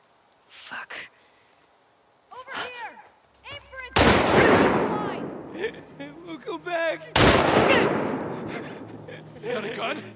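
Gunfire in The Last of Us Part II, two loud, sharp shots a few seconds apart, each with a booming tail, while voices shout and talk between and around them.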